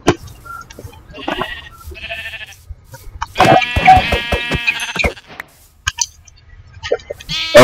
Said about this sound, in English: going over to kill the sheep.